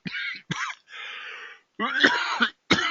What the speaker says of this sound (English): Don't want to begin this session with a cough